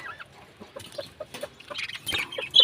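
Soft, scattered clucking from hens and roosters nearby, short irregular calls growing a bit louder toward the end.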